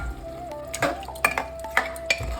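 Boiled mutton being sautéed with spices in a pan for a pressure cooker mutton curry, heard as soft stirring scrapes and light sizzling with a few sharper utensil clinks against the pan, close and without talk.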